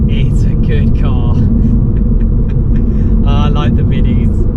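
A Mini Cooper S Resolute Edition drives on roads with a loud, constant engine and road rumble recorded from inside the cabin, with speech over the steady drone.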